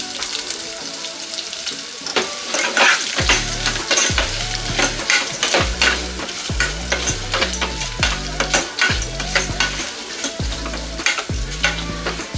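Curry leaves and finely chopped medium onion frying on a low flame, with steady sizzling and repeated scraping stirs of a spoon against the pan, close and fairly loud.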